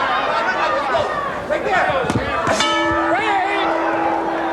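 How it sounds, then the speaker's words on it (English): A bell rings out sharply to end round 2 of a 1983 featherweight world championship kickboxing bout, struck a couple of times and then left ringing, heard over a noisy arena crowd and commentary. "There's the bell signaling the end of round number 2."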